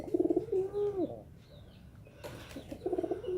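Pigeons being herded coo in soft, throaty bursts nearby, with a flutter of wings between calls.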